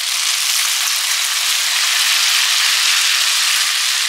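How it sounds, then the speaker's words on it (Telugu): Onions and tomatoes frying in a pan for an Andhra-style fish curry, giving a loud, continuous close-up sizzle with no pauses. "ఇవి మొత్తం కొంచెం బ్రౌన్ కలర్ అయ్యే వరకు మనం ఫ్రై చేసుకోవాలి."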